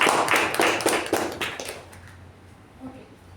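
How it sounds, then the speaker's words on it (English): An online Toastmasters club meeting audience applauds for a speaker, a short burst of rapid claps and hand taps that thins out after about two seconds, with a voice speaking. "let's give Toastmaster Rahul a huge round of applause"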